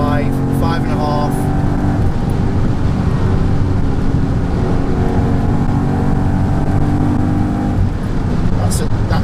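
A supercharged Mercedes-Benz E55 AMG W210 with a Kleemann 55-K2 kit and a misfire revs hard in third gear toward 6,000 RPM, a loud, steady, continuous engine roar heard from inside the car and sustained throughout.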